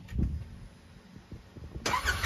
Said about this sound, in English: I'm gonna put the seat back in and put some tools away, and then we'll get back in here and get her started up